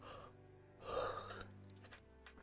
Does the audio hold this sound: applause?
no